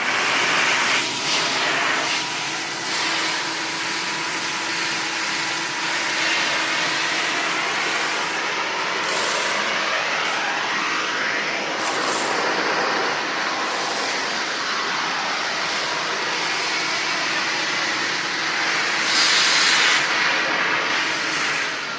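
Electrolux Olympia One vacuum cleaner running steadily with its floor tool on a bare floor, a loud continuous airy whine with shifting pitch sweeps as the tool moves, alone without talk.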